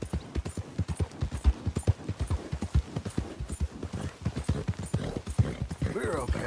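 Horse hooves clip-clop at a steady walking rhythm in the Red Dead Redemption 2 video game, loud and close, with a voice talking over the hoofbeats throughout.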